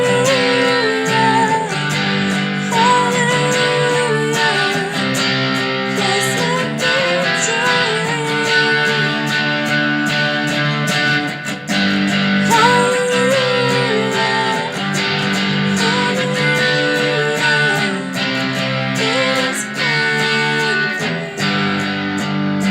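An electric guitar plays big bar chords for a song's bridge, strumming a steady, loud chord progression with a slightly distorted tone that carries on continuously for over twenty seconds.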